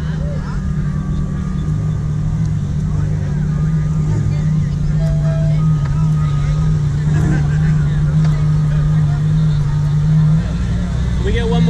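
A Ferrari LaFerrari in Boston holds a loud, steady engine drone for the whole stretch. Crowd chatter and voices mix in over the rumble.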